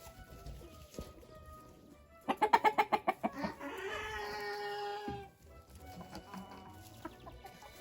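A hen that lays blue eggs, kept at a countryside dacha, lets out a loud burst of rapid pulsed clucks that runs into a drawn-out squawking call midway, with quiet yard ambience before and after.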